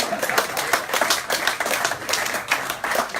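An audience at a shirt presentation evening claps, with a sparse, uneven patter of individual hand claps bursting in irregular clusters, fairly close and moderately loud with no talk over it.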